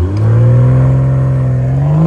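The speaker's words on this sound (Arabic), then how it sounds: "مفروض العربية تقدر تعمل لونش، رجلي على الفرامل على الآخر وهنشوف" A BMW M340i xDrive launches under launch control, its engine note rising steadily as it accelerates hard, loud and close from start to finish.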